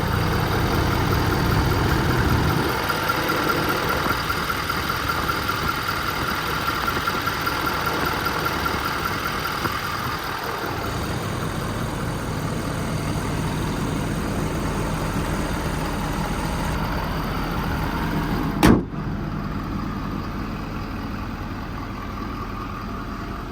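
Diesel engine of a 2016 Ford F550 4x4 service truck with 127k miles idling at close range, a steady low rumble throughout with a slight shift in tone partway and a brief sharp click near the end.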